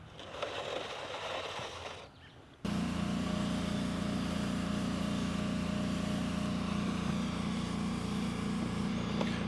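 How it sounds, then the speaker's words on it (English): A truck being worked on inside a shop, heard from nearby as a steady low mechanical drone that starts abruptly after a brief quieter rustle and then runs on evenly. "you're gonna hear some noise in the background. I got a buddy that's working on his truck in the shop."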